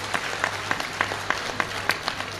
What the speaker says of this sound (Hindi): एक बार जोरदार ताली बजा करके साधुवाद दो।